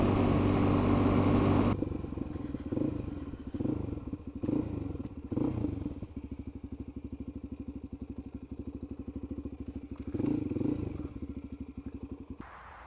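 A Suzuki DRZ 400 single-cylinder engine idles close by, a steady rapid thumping putter after a loud opening burst, with occasional rises in revs and a few clattering knocks.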